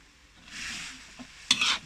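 Silkworm pupae dry-roasting with salt in a pan hiss briefly as they are stirred, with a sharp scrape and clink of the utensil near the end.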